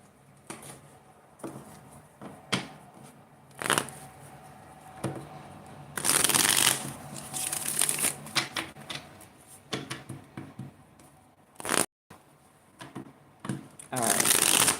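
A deck of tarot-style reading cards is shuffled in repeated bursts of riffling and flicking, close and fairly loud, with brief pauses between rounds and bursts of soft talk.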